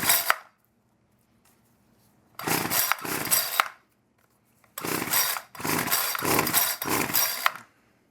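A primed chainsaw on full choke that will not start: several separate rasping pulls of the starter, each a loud burst lasting about a second, separated by quiet gaps, with no engine catching afterward.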